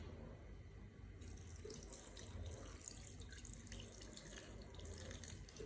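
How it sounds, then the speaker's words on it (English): Water poured from a tap over re-pounded palm nuts in a pan for Ghanaian palm nut soup, a steady close running splash that carries through the whole stretch with no talking. "So I'm going to add a good amount of water."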